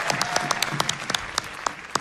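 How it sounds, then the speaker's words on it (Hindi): Audience applause at a televised Nepali children's dance show, a dense, loud burst of clapping with sharp individual claps standing out, no talk over it. "ड्याडीको लागि एकचोटि जोरदार ताली फेरि"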